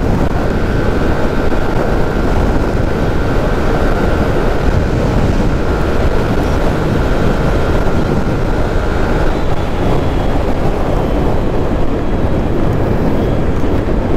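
Honda Click 125i and Yamaha Mio Soul motorcycles race at top speed, a constant loud rush of wind over the microphone masking a steady high engine whine that fades after about nine seconds.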